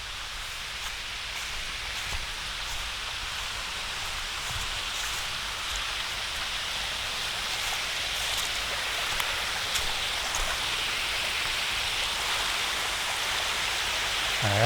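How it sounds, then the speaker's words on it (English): A forest waterfall gives off a steady, broad rushing hiss, fairly soft and unbroken, a continuous wash of falling water with no voices over it. "Let's check out the waterfall here."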